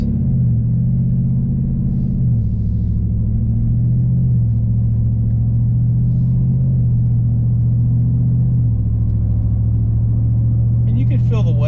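A Chevrolet Silverado Trail Boss pickup on 22x12 wheels and 33-inch tires pulls away from a stop, a loud steady low engine rumble with a couple of gear-shift steps as it builds, heard from inside the cab.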